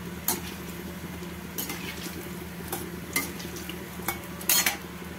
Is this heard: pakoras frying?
yes